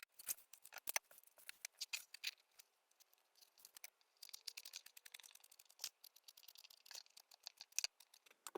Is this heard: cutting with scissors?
yes